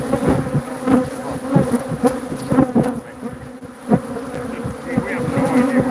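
Bees buzz densely around their hives, a steady close swarm drone with individual insects flitting past the microphone; no voices are heard.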